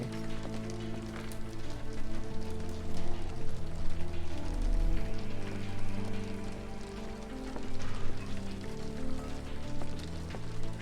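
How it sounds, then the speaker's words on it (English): Rain falls in the video game Sherlock Holmes The Awakened, a soft continuous patter and hiss running steadily beneath sustained background music. "This dreary rain is making a miserable day even worse."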